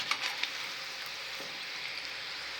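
Fenugreek muthiya frying in hot oil on a gas stove, a soft continuous sizzle with a few faint crackles near the start, steady and fairly quiet with nobody talking.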